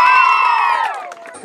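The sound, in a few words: crowd cheering and applauding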